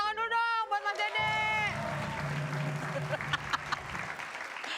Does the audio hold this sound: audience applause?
yes